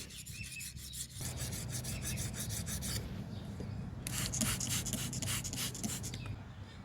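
Knife sharpened on a Suehiro Debado whetstone, close rhythmic scraping strokes back and forth with a pause partway through before the strokes resume; no talk.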